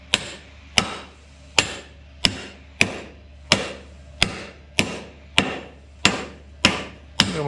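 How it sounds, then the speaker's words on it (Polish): Evenly spaced hammer blows ring out, about ten sharp metallic strikes roughly every 0.8 seconds, close and clear, during assembly of a vehicle axle with no talking. "Młot, młot."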